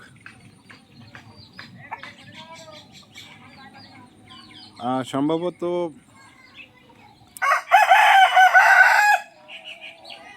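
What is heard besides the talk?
chickens and ducks calling, rooster crowing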